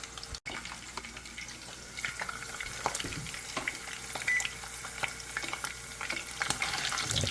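Breakfast sausage links fry in a pan, a continuous close crackle and spatter that builds slightly over several seconds, with scattered pops and light clicks of turning.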